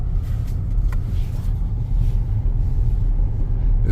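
All-wheel drive car in off-road mode driving through snow in a Sierra blizzard, heard from inside as a constant loud low rumble of engine and road noise.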